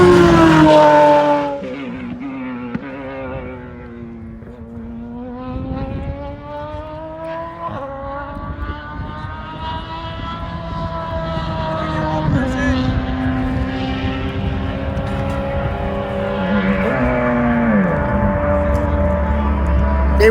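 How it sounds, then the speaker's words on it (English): Race cars at a driving school warm up, engines revving and dropping in long rising and falling sweeps, loud and nearby, with people talking now and then over the roar. "They warmed the cars up for us."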